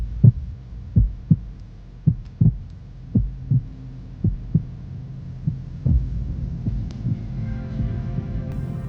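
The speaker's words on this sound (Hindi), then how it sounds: "दिल की धड़कनें भी तेज हो गई हैं।" A fast heartbeat effect in a drama, with low thudding beats in a steady quick rhythm, loud and alone, fading into a low hum near the end.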